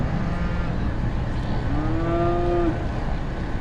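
At a junior market steer show, a single steer lets out a long, rising moo that cuts through the steady, loud crowd and arena rumble.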